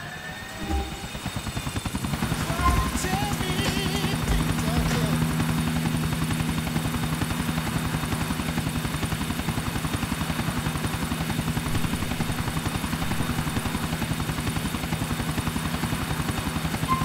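A police helicopter in the video game GTA IV thuds with a steady, loud rotor chop and a droning hum, building in over the first two seconds and then holding, with faint voices in the background.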